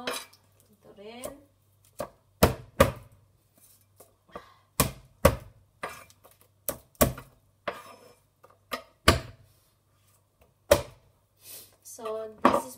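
A knife chops onion on a cutting board in a home kitchen, giving sharp, irregular thuds spaced about half a second to a second apart, close and clear, with a voice speaking briefly near the start.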